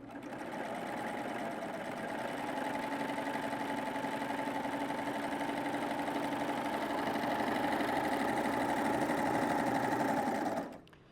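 A serger set up for coverstitch runs a test seam through fabric, giving a loud, steady mechanical whir that holds for about ten seconds before stopping abruptly. No one speaks over it.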